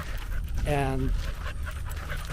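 Muzzled dogs on a walk pant and whimper briefly, a short nasal whine midway with rhythmic breathing around it, close by, while someone talks over the scene.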